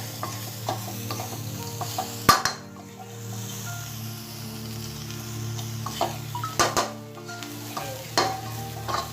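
Crispy fried gourami fish being stir-fried with chili and salt in a pan: soft, steady sizzling with scattered scraping and clanking of a utensil against the pan, a few sharp louder knocks among them.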